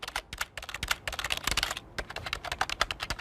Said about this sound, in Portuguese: um teclado